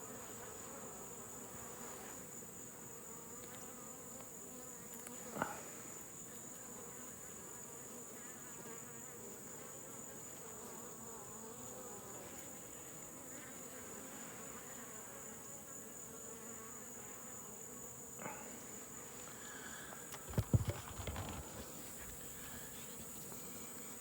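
Honeybees hum inside an opened Layens hive during requeening, a continuous soft buzz with a few brief knocks and rustles near the end.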